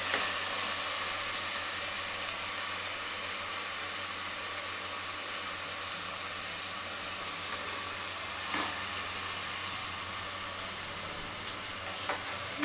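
Chicken for a Warangal-style sengala curry sizzles in a pan with a constant, dense crackling hiss, with occasional faint clinks of stirring throughout.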